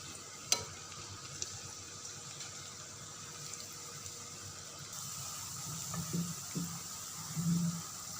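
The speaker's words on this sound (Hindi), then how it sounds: "अब हमारे पकौड़ों का मिक्सचर रेडी है और इसका कलर देखिए कितना प्यारा है और हमारा ऑयल भी गर्म हो चुका है। अब हम इसमें पकौड़े निकालेंगे।" Pakoras frying in hot oil in a kadhi pakora kitchen, a faint steady sizzle and hiss with a few soft clinks and low bubbling bursts near the end, no talking.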